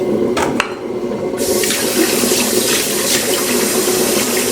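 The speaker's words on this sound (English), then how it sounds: "I'm just going to get some hot water running in here" Hot water gushes steadily from a kitchen tap into a sink, a loud continuous splashing rush that holds even throughout, with a few brief clinks near the start.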